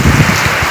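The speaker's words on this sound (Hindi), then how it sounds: "एक तेज़ हवा के साथ तेज़ बारिश हो रही है।" Heavy rain driven by strong wind, a dense broadband wash with low gusty rumbles. It is loud and close and lasts under a second, with no voices.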